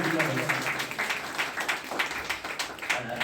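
Audience applause at a stage event, a steady wash of clapping across the whole stretch, with voices audible underneath.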